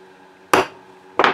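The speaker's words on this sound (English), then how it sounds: "It did spring off this time, which it doesn't usually do." The ejector spring of a Vz.50 pistol snapping loose during slide disassembly: two sharp, close metallic clacks about two-thirds of a second apart, the second a little quieter, over a faint background hum.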